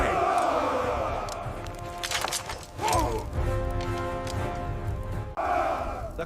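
An enraged crowd shouts and cries out in fury against a man accused of defiling the temple, a loud, dense clamor of many voices rising in surges with a sharp burst near the middle.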